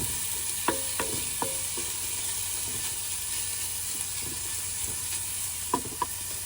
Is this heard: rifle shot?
no